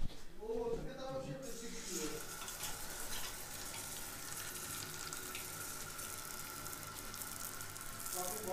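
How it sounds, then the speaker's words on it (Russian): Water runs from a bathroom tap in a steady, fairly quiet gush, with a brief voice near the start before the flow continues alone. "Особенно вот эти вот краники, которые откручиваются."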